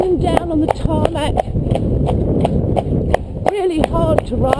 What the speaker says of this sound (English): legs going everywhere, banging them down on the tarmac.